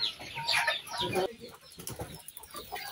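Backyard hens being let out of their coop cluck in short bursts close by, loudest at first and then scattered and quieter calls.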